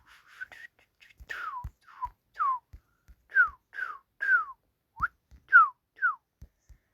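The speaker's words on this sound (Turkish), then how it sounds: "ıslık çalıyorum" A person whistles a series of short, sliding tones, about a dozen separate notes each bending downward, given close and clear in an irregular rhythm, with soft thumps beneath some of them and no speech.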